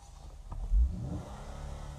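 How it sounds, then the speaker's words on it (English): Car engine revs in a short, low-pitched surge that rises and then settles back to an idle rumble, heard faintly over a live stream with no talking. "Listen to me car sound"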